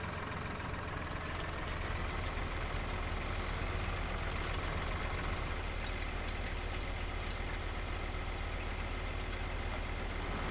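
A tractor engine in the farming game Farming Simulator 2013 drones steadily at a constant idle-like pitch, a low continuous hum with no speech over it.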